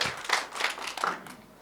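Audience clapping for a Haryanvi poet at a poetry show, a short burst of several distinct claps close by that thins out and fades within about a second and a half.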